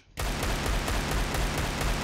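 Rapid, continuous bursts of gunfire from a video game, loud and steady after a brief quiet start, with no talking.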